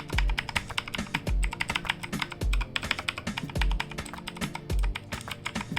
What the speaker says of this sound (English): And this is how the mechanical keyboard sounds.